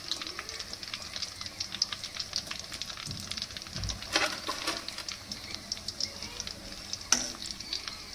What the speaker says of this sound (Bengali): প্রত্যেকটা ভেজে নিই।